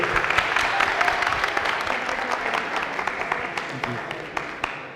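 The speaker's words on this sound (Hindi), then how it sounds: "तालियां होनी चाहिए फरहान साहब के लिए" A game show studio audience applauds a contestant with dense, sustained clapping that stays fairly loud and thins slightly toward the end.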